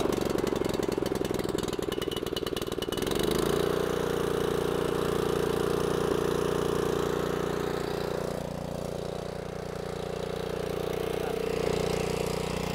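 A Dr. Power brush mower engine chugs with a rapid, rough knocking, then settles into a steady, loud running drone that dips slightly midway, heard up close without talk.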